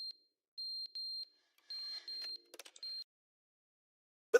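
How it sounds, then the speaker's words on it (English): Repeated electronic alarm beeps in the video game The Stanley Parable, short steady tones in an irregular series of pairs, fairly quiet and alone, with a brief burst of clatter midway and a sharp click at the end. "What's with the beeping?"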